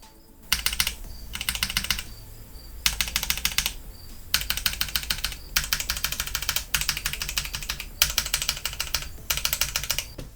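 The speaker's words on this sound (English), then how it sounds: "It is a linear switch, so it's not like a blue switch, which I just came from. Let's do an individual key test now for the sound." A HyperX Alloy FPS RGB full-size mechanical gaming keyboard with linear switches being tested key by key, close-up rapid clacking in repeated bursts of presses with brief gaps between runs, over a low steady hum.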